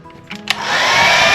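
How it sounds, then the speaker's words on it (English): Hair dryer in a cruise ship balcony cabin starting up after a few light clicks, then a steady loud whooshing blow that holds close and continuous. "Hair dryer."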